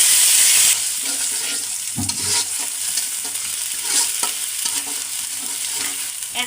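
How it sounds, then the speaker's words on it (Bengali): Ground spice paste goes into a pan of frying onions and sesame seeds for a cauliflower fish curry, with a steady close sizzle and scraping stirs that scrape and clatter at intervals. "এখন দিয়ে দেবো বাটা মশলা।"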